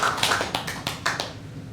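A few people clap for a city mayor at an academic conference of a cultural festival, a handful of sharp, separate claps spaced out and fading quickly, close and fairly soft, with no talking.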